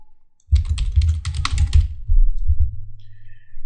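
A computer keyboard is typed on up close in quick clustered bursts of clicks, pausing briefly before a second short run of keystrokes.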